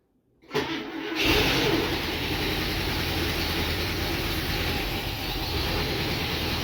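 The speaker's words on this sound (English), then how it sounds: "I'm going to see if I'll get her to idle." An International Scout engine cranks and catches after a brief pause, then settles into a loud, steady rumbling idle that continues unbroken.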